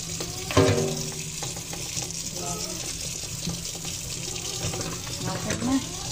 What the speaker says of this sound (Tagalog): Tuloy-tuloy ng tubig na sa agos.